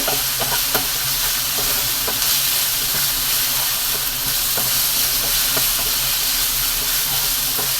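Ginger-garlic paste and green chillies sauté in a pan for a paneer gravy, giving a steady close sizzle throughout with irregular light scrapes and taps of a stirring utensil, and no voices.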